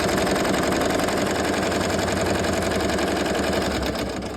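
An embroidery machine stitches a placement outline for a patch on a jacket, a fast steady mechanical rattle and whir that runs loud and close throughout, easing off slightly at the end.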